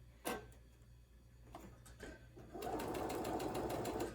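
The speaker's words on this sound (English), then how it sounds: "See how I'm sewing here?" A domestic sewing machine stitches rows of quilt pieces together, starting with a few short isolated bursts and clicks before settling into a steady, fast mechanical whir, close and fairly quiet.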